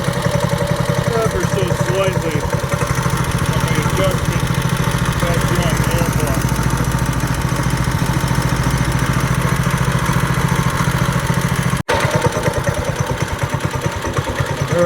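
A Coleman RSV200 engine idles after a throttle adjustment at the airbox, giving a steady, close mechanical drone with an even pulse and a brief click near the end.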